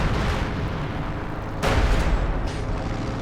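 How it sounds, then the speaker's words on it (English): Howitzer artillery fire in a WWII strategy video game: a dull boom lands over a steady rumbling battlefield backdrop, followed by a fainter second blast shortly after. "So far the howitzers having limited success in hitting actual Soviet targets."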